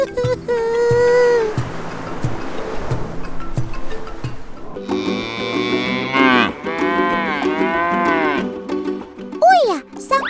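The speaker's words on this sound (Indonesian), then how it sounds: "Lihat nih, kawanan sapi ini sampai harus makan sampah." A herd of cattle moos repeatedly in a trash-strewn area, long drawn-out calls rising and falling and overlapping, loud and close, with a steady noisy background between calls.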